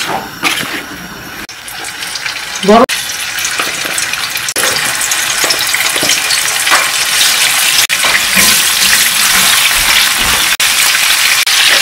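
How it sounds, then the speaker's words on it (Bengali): Medium-to-large mixed shrimp, marinated with turmeric and salt, fry in hot oil with a loud, steady sizzle and crackle, broken by a few sharp clicks and stirring sounds. "এখানে মিক্স চিংড়ি আছে, এগুলোকে আমি ভেজে নিচ্ছি।"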